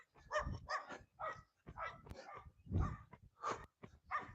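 Dog barking outdoors at a passing runner on a hot day, a steady series of about eight loud, separate barks spread evenly across the stretch, with no other sound between them.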